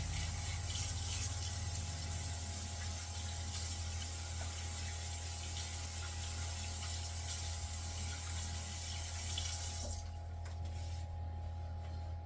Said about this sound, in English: We're going to go wash our hands for a second.